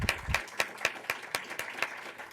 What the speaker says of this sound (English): I'd like to give one last round of applause to everybody who was in this competition